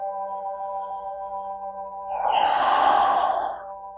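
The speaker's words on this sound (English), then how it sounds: "Breathing deeply." A long, deep exhale during a calm bedtime yoga flow swells audibly over a steady soft musical drone and then fades away.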